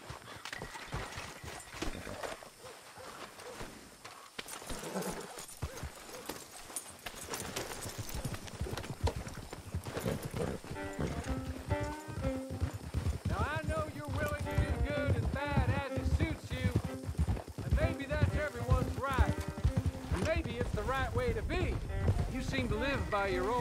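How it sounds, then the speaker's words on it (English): Horse hooves clip-clop in the Red Dead Online video game, a steady rhythmic trot that grows louder and busier, with voices and game sounds around it. "Get on your horse."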